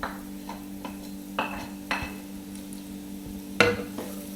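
Finely chopped onions frying in a drop of oil in a hot pan, a soft continuous sizzle under a low hum, broken by several sharp clinks and scrapes of a utensil stirring against the pan, close by.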